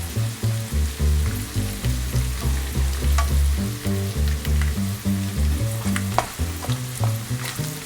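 Potato cheese galette frying in a pan over medium heat, a steady, dense crackling sizzle with a low background hum, close and continuous with no talking.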